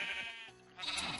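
Two short quavering sheep bleats from Let's Survive in the Underground, one right after the other, close and clear with no talk over them.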